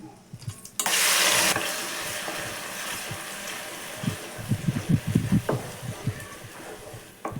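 Onion paste hits hot oil with fenugreek in a pan for a Nellore-style fish curry, bursting into a loud sizzle that settles into softer frying with uneven scraping stir sounds.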